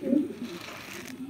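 Pigeons cooing around a home loft, a low soft murmuring coo that is strongest at the start and then continues more quietly beneath light background sound.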